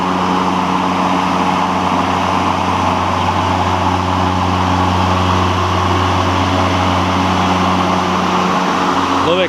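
Ryobi 40 volt electric push mower running steadily at close range, a loud continuous hum with a droning tonal whine that holds level throughout without pause.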